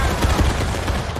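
A volley of musket fire in a Civil War-style battle scene: a dense, loud crackle of many shots merging into one sustained roar, close and continuous for a moment.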